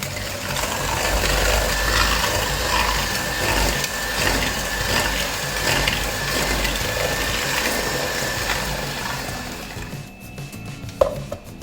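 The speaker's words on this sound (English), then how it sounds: "I'm going to be creaming the sugar and the butter together" An electric mixer creams butter and sugar together for thumbprint jam cookies, giving a steady, loud mechanical whirring and grinding that runs almost the whole time before cutting off near the end, with a brief clatter afterward.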